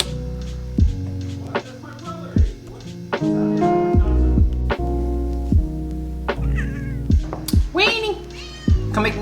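A pet cat meows repeatedly indoors, its calls rising and falling over a steady low hum, mixed with a few sharp knocks and thumps nearby.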